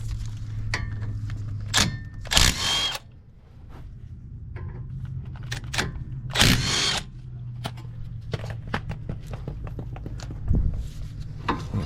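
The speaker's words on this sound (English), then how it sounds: "Now we're going to take the 14mm and remove the two caliper holding bolts here." Brake caliper bolts come off the front brakes of a Kia Soul with a 14mm socket, heard as short bursts of a power tool whirring between clanks, taps and handling noise, close by in a workshop.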